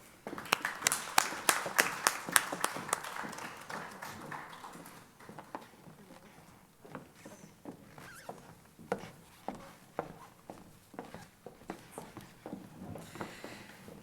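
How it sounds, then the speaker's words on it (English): A school awards audience at a high school FFA awards ceremony claps for award-winning students, starting with crisp, rapid clapping that thins into lighter, scattered applause. "Please give all of these students a round of applause."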